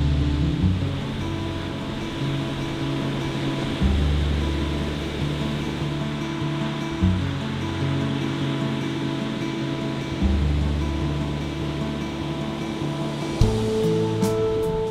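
Pacific Ocean surf on a remote California beach along the Lost Coast trail rumbles in a steady wash, with low droning tones pulsing in a repeating pattern every few seconds.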